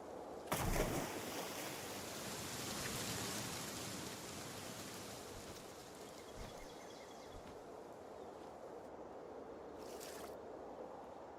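A waterfall in Palworld pours as a steady, even rush of white-noise water, fairly quiet and continuous, with a few faint thumps and clicks of in-game movement on top.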